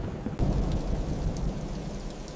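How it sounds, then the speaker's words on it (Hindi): A storm with a sudden close thunderclap over heavy, constant rain, the low rumble booming out then rolling beneath the steady downpour. "तूफान अपने चरम पर था"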